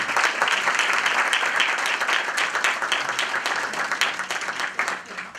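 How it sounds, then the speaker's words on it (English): A gala dinner audience gives a talented young musician a sustained round of applause, a thick even roar of many clapping hands that stays loud for several seconds before thinning slightly at the end. "Let's give him another round of applause"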